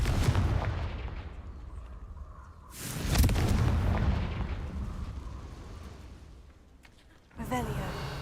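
Booming Confringo spell blasts in the video game Hogwarts Legacy: a heavy explosion with a long rumbling decay, followed by a second sharp burst near the end, with a player's voice heard around them.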